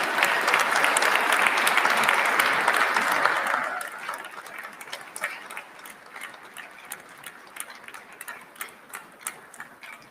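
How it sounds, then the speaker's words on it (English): Audience applause for newly commissioned military officers at a joint commissioning ceremony, a dense, loud burst of many hands that fades after a few seconds into scattered individual claps. "let's have a round of applause for our military's newest officers"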